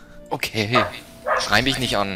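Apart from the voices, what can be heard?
dog barking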